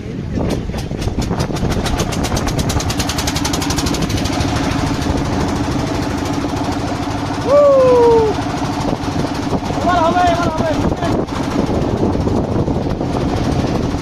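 A boat engine drones steadily and loudly throughout a ride on the Bhatra Beel lake in Malda, with people talking over the noise.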